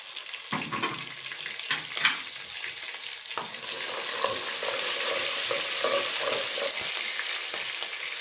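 Onion and chopped green chili frying in a pan for dhaba-style moong dal tadka, a steady hiss of sizzling oil with a few clinks and scrapes of stirring early on, close and unaccompanied by talk.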